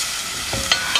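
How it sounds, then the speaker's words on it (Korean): Ingredients sizzle in a hot pot while being stir-fried for Korean bean sprout or dried pollock soup, a continuous bright frying hiss with a few scraping stirs of a utensil. "이것도 한 잠시만 볶아주도록 하세요"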